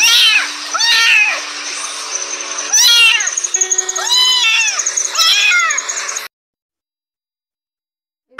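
A cat sound effect in an animated story: a series of loud, close, drawn-out pained meows and wails, repeated several times in quick succession, followed by abrupt silence.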